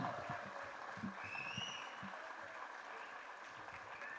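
Audience applause fills a hall at a Blue Star film audio launch event, a broad, steady wash of clapping heard from a distance with faint voices mixed in.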